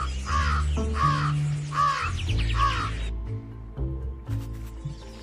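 Crows caw in the video game Ant Inventor. Four harsh, rhythmic caws repeat close together, then give way to quieter, sparse game sounds and faint clicks.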